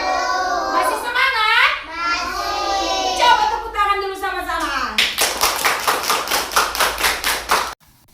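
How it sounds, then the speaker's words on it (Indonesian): A class of children claps in rhythm at school, a run of sharp, evenly spaced claps in unison following a teacher's spoken prompt and children's replies, ending abruptly. "Coba tepuk tangan"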